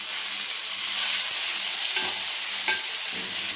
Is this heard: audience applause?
no